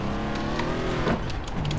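Car engine in Far Cry 3 as the player commandeers a vehicle, a steady loud motor drone with revving swells and a brief tire squeal, running continuously without talk.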